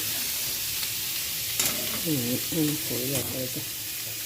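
Potatoes frying lightly in a pan, giving a soft continuous sizzle with a few stirring clatters, while a faint voice talks in the background partway through.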